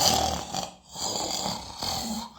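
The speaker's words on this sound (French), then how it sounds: "Elle ronfle comme le porc." A sleeping woman snores steadily, with rough, rasping breaths repeating close by and no talk over them.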